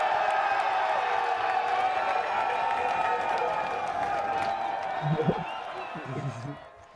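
Recorded crowd cheer from a past Blading Cup rollerblading competition: a dense, sustained roar of cheering, whooping and applause from a large audience, steady throughout and easing off near the end.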